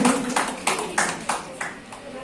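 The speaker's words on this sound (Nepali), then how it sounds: "फेरि पनि एकचोटि जोरदार ताली उहाँलाई सम्मान व्यक्त गर्न मन गर्छु" An audience claps at an anniversary celebration of a Nepali social service foundation. A handful of distinct, evenly spaced claps ring out in a slow rhythm in a reverberant hall.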